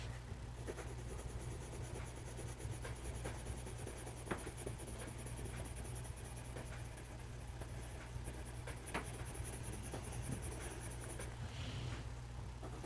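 Pencil scratching and shading on paper while drawing a dill pickle, a soft continuous scribbling with small strokes and taps, quiet and close, with no talking.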